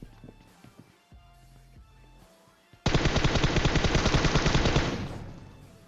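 Loud, rapid automatic gunfire from the PUBG Mobile battle game bursts in midway, a dense string of evenly spaced shots lasting about two seconds before fading, after quieter game ambience.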